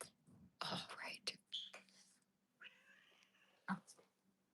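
A cat meows several times in short bursts, close and fairly loud, mixed with soft whispered speech from a person nearby.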